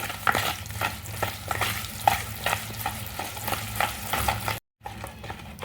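Tutti frutti cake batter being stirred in a bowl, a steady run of scraping, sloshing strokes at close range, with a brief gap near the end before stirring resumes.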